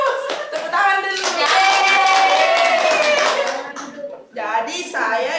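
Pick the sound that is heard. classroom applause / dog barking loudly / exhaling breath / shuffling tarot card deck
classroom applause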